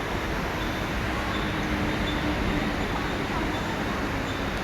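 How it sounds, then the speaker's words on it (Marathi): A Mumbai local train from Uran stands at a station, giving off a steady, dense rumble of rail and platform noise that is loud and unbroken throughout, with no distinct events. "ही आता उरणवरून आलेली ट्रेन आहे."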